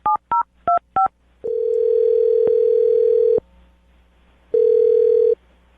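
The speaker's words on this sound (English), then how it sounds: "I'm going to dial the phone number right now" Touch-tone keypad beeps sound four times in quick succession, then a steady telephone dial tone hums loudly for about two seconds, stops, and returns briefly; clear and close, with no voices.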